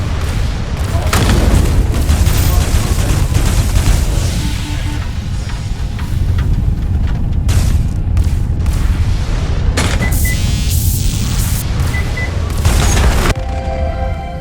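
Missile blasts go off in a shooter video game, a steady wash of booming explosions and gunfire with sharp bursts layered on top, loud and continuous, with light talk underneath.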